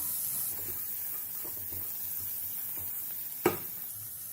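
Chopped onions fry in oil for a soya keema pulao, giving a faint, steady sizzle with a single light clink of a utensil partway through.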